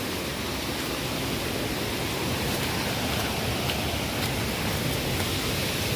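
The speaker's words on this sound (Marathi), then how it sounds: "इकडे पर्याला पाणी बघा जबरदस्त" A forest stream with strong flow running deeper than waist height, a steady close-up rushing hiss that stays constant and unbroken, with no voices over it.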